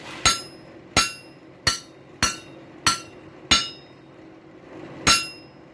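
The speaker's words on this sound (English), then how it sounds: "You can snap that hammer down using a little wrist action." A hammer strikes stainless steel pipe while a tool is forged, landing seven sharp, ringing blows at a steady pace with a short pause before the last one, close and with no talking.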